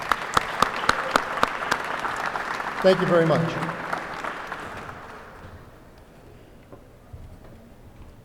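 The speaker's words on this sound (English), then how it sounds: "if I could have just one final round of applause for all of our awardees and their families and friends" Audience applause for awardees and their families at an awards ceremony, clapping swelling then fading away, with someone briefly speaking over it and a few sharp taps at the start.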